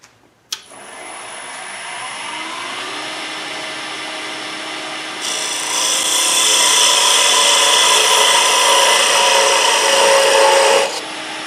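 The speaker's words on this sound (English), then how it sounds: "We need to get another parting tool cut in here to separate the cove from the ball." Lathe parting tool cutting into spinning wood on a doorstop blank, separating a cove from a ball; a steady, loud scraping hiss that grows louder and harsher partway through, then stops abruptly.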